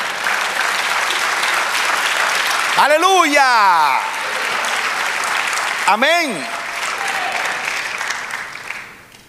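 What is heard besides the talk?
church congregation applauding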